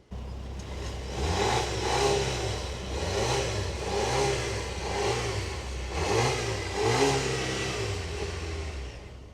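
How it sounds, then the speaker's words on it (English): 2024 Volvo XC90 T8 Recharge plug-in hybrid engine revving in repeated rising surges, about four climbs in pitch with brief dips between, close and clear with no talk. "Now listen to that engine."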